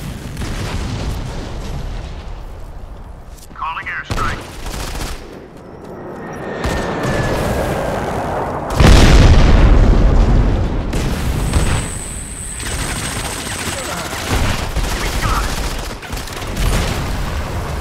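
Gunfire and explosions from the mobile shooter Modern Combat 5 crackle and boom in dense bursts, with a heavy blast near the middle over a steady layer of game noise.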